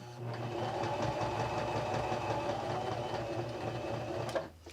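A home sewing machine stitches fabric around a curve for a small stocking ornament, running at a steady, continuous mechanical whir with a fast regular needle rhythm, close and alone, ending with a brief knock.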